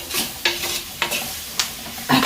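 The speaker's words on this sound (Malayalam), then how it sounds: "കുറച്ച് ഒരു 1/4 ടീസ്പൂൺ മുളക് പൊടി അതും കൂടി ഇട്ടിട്ട് ഒന്ന് മിക്സാക്കാം" Chili powder being stirred into a pan of chicken curry, a few distinct scraping strokes of the spoon spaced about half a second apart over a soft background sizzle.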